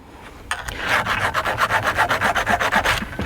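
A chainsaw chain is touched up with a hand file, giving a close run of about a dozen quick rhythmic rasping strokes after a short quiet start.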